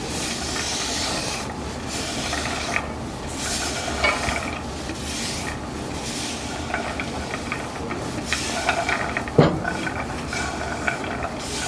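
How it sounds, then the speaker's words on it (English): Ground beef and onion cooking together in a skillet while a utensil breaks up the meat, close scraping and rubbing strokes over a low sizzle, with a sharper clink near the end. "I'm going to put it in my skillet with the ground beef and the"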